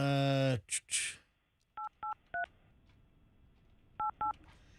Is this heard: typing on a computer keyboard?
no